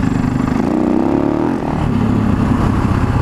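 A Husaberg motorcycle engine runs with a steady, loud, throbbing mid-pitched drone and a slight dip in revs midway.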